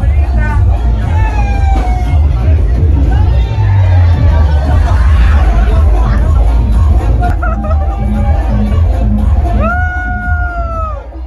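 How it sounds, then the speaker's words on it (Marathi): Jubilant crowd at the Gavdevi palanquin procession during the Dadar fair, in a lane thick with gulal powder: loud, dense, unbroken hubbub of many voices shouting and chattering close by throughout. "आणि इकडे जल्लोष चाललेला आहे खूप."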